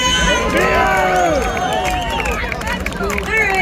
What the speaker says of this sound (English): the crowd is beautiful tonight